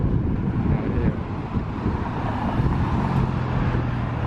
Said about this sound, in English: And very windy out here.